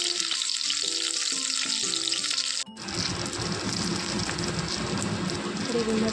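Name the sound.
brinjal being fried in a pan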